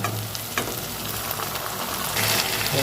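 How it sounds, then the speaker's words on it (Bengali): Marinated chicken sizzles loudly in a pan with fried onions, stirred throughout with scraping spoon strokes over a steady, dense frying hiss, with no talking. "একসাথে ভালো করে মাছটা কষতে চিকেনটাকে নাড়তে কষতে থাকবো।"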